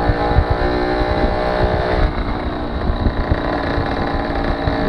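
Moped engine riding through busy traffic, a continuous buzzing drone with steady revving and surrounding road noise, close and loud throughout, no speech.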